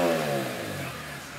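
Motorcycle engine fitted with a new muffler starting up and revving, a loud, steady close-up roar with a deep low rumble that eases slightly as it settles.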